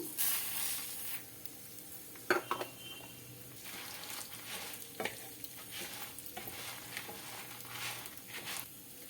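Dry red chillies fry in a pan for coconut spice powder, a soft steady sizzle broken by clinks and scrapes of a spoon against the metal, close and fairly quiet.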